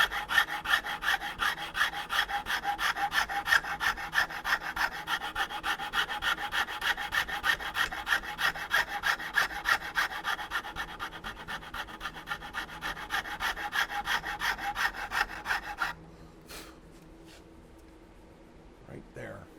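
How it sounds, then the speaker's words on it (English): A Japanese Shinto rasp files a wooden over/under gun stock in fast, rhythmic rasping strokes, close and steady for most of the stretch before stopping, followed by a few light scrapes. "This is a Japanese Shinto rasp."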